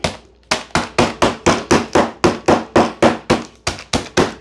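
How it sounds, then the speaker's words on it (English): Steady, rapid hammer blows pound crumbs in a bag, around four strikes a second, loud and close with no talking. "We gotta smash these up some more. Where's my hammer?"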